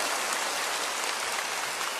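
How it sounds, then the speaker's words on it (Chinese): A concert audience applauds at a 2010 golden-oldies show, a dense, loud, even wash of clapping that fills the full two seconds. "所以我都希望再次听到你嘅掌声"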